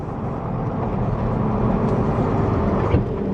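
Tractor clearing snow with an 8-foot blade gives a loud, steady engine roar that holds close and constant, with a slight swell near the end.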